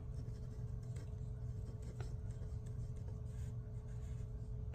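Zebra Sarasa and Mildliner pens writing on paper, quiet close scratching and scribbling strokes in a quick irregular rhythm with small taps, faint and alone.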